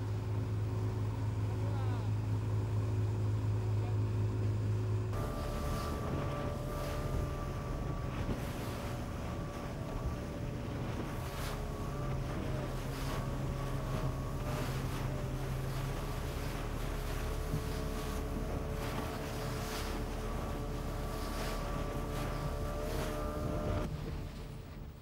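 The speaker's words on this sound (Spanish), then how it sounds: "La forma más rápida de hacer llegar el chat al otro extremo del Golfo es en lanchas rápidas." Speedboats carrying khat across the Gulf of Tadjoura between the Red Sea and the Gulf of Aden, engines droning loud and steady throughout with heavy wind buffeting and water rush, a tonal engine whine shifting after a few seconds.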